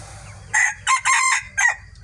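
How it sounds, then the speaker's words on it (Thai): A rooster crows nearby, a loud cock-a-doodle-doo delivered in four quick broken bursts over a low background rumble. "เด้เสียงขันมัน"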